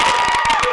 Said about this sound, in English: that is officially the last time you get to applause for them until the very end